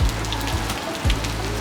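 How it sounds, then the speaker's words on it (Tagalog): Heavy rain pours steadily on a surface outdoors, a dense, continuous wash of drops with no voices, loud and close throughout. "dahil malakas ang ulan sa labas"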